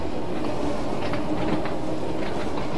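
A train on the Isle of Wight line in Train Sim World 2 rumbles along steadily, with rolling wheel noise and faint rhythmic clicks over the rails, loud and continuous with no talking.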